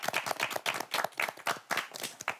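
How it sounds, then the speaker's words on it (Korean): A studio audience claps in a steady burst of applause lasting a few seconds, the quick overlapping hand claps close and fairly loud with no talking over them. "박수. 박수."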